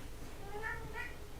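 A house cat gives two short meows over a constant low background hum, fairly faint and without any talking.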